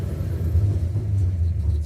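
An old project car parked since 1999, on its first drive in 27 years, runs with a throttle sticking open, giving a steady loud low engine rumble heard up close without talk.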